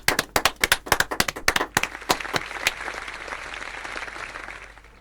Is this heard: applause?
yes